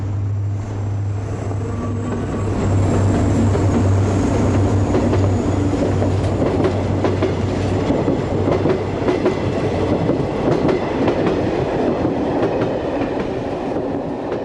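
A regular Paris-Briançon passenger train with a mixed set of carriages passing on the Alpine line near Aspres-sur-Buëch, a steady loud rumble with rhythmic wheel clatter and a low locomotive hum, close by and continuous.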